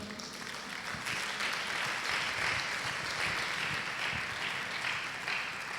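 A church congregation at a women's service claps together, a soft, dense wash of applause that swells slightly and carries on evenly, faint and somewhat distant.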